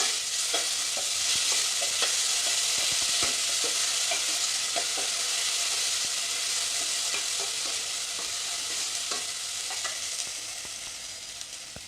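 Cumin and ginger garlic paste fry in a pan with a continuous bright sizzle, punctuated by small clicks and scrapes of stirring, close up with no voices.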